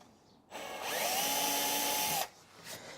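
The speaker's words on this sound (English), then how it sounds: "just drill out a small hole" A power drill whirs steadily for under two seconds, drilling a small hole, close and loud, spinning up sharply and stopping abruptly, with quiet room noise before and after.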